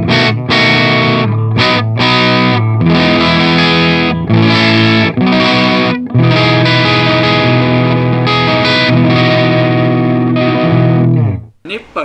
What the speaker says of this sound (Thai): เกณฑ์สุดก็เหมือนว่าเป็นเสียงแตกจากธรรมชาติเลยนะเพียวๆออกมานะครับ